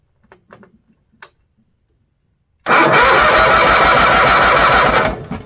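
A John Deere 318 garden tractor engine, left sitting for twenty years, cranks over with its spark plugs disconnected, a loud steady churning starter drone that follows a few faint clicks and keeps going without firing.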